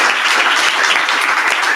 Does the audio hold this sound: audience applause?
yes